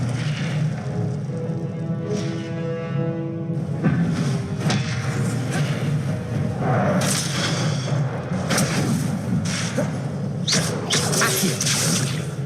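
Incendio fire spells are cast repeatedly in Hogwarts Legacy gameplay, producing loud whooshing bursts and heavy thuds layered over a steady game score, several impacts following one another through the clip.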